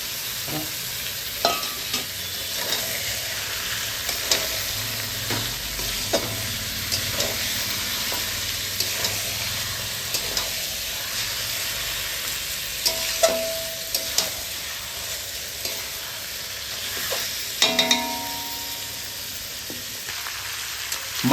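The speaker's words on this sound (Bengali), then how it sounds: "মাটন কষার সময় কিন্তু আমরা এক ফোঁটাও জল দেবো না। বিনা জলে আমরা ভালোভাবে আস্তে, মানে হালকা আঁচে কষে নেব।" Mutton frying dry with spices in a pan over low heat, with a steady soft sizzle and regular scraping stir strokes throughout, close up and without talk.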